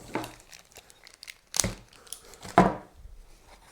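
A small plastic bag holding plastic plugs, like clips or rivets, is handled close up: three distinct crinkling rustles stand out, with quieter plastic handling between them and no talk.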